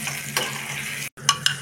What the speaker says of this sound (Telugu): ఇప్పుడు తాలింపు అంతా బాగా వేగాలి